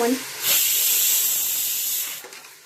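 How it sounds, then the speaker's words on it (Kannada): Mutton is dropped into a hot pan and bursts into a loud sudden hissing sizzle that holds steady for about two seconds, then fades, following a brief spoken word at the start. "ಇವಾಗ ಮಟನ್ ಹಾಕಿದ್ದೀನಿ."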